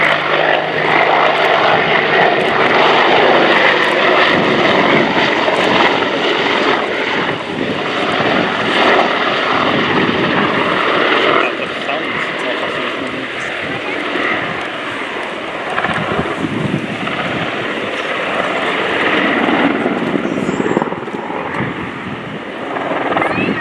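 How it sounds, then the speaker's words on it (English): Two Apache AH1 attack helicopters performing a flying display at an air show, a continuous loud rotor and turbine roar with heavy wind buffeting that swells and eases slightly as they manoeuvre, with no talk over it. "the powerful tail rotor will turn the aircraft 180 degrees about the centre of the main rotor blade"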